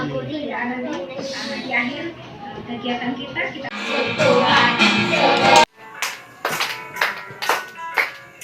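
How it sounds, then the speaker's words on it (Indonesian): A short burst of hand clapping during an online children's Sunday school session, a few sharp claps following a stretch of talk and music. "Tepuk tangan"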